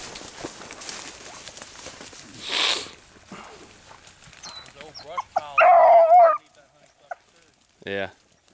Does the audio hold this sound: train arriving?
no